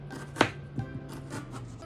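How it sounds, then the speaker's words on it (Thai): A knife chops through half an onion on a board: a few soft, uneven cuts, one sharper than the rest, close by. "เรามาหั่นหัวหอมกันต่อเลยค่ะ"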